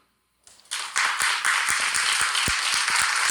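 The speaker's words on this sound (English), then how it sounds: "Clap if you believe her." After a moment of silence, a group of people breaks into clapping that quickly becomes a loud, steady round with distinct sharp claps, close by and without talk.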